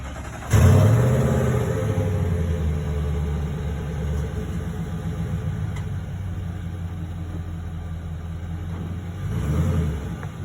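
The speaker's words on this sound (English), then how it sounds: "We'll pull the car up." A car engine starts and idles with a low steady rumble, close by as the car is pulled forward away from a small Scamp camping trailer, with a brief rise in engine noise near the end.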